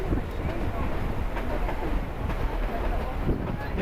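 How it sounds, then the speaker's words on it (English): The Durango and Silverton narrow gauge steam train, pulling open-air gondolas, gives a steady, moderately loud rumble and rattle, along with wind buffeting the microphone. "an open-air gondola being pulled by a steam engine."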